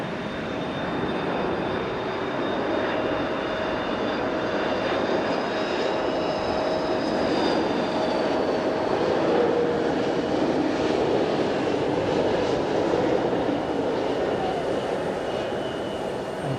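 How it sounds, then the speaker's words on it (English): A China Airlines airliner arriving from Taipei at Fukuoka airport produces a sustained, even engine roar with faint whining tones drifting across it, steady and moderately loud from a distance, with no voices. "here's China Airlines coming in from Taipei"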